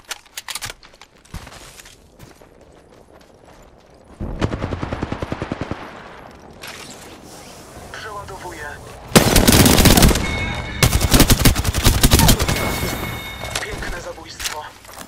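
Automatic gunfire in the battle royale game Apex Legends, loud rapid bursts of shots separated by quieter gaps, with a mix of close heavy volleys and fainter distant fire and a few game voice lines.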